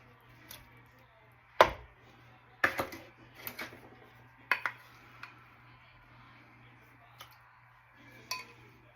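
Cranberry sauce being spooned into muffin batter in a mixing bowl, heard as sharp scattered clinks and scrapes of a utensil against the bowl over a low steady hum, with quiet moments in between.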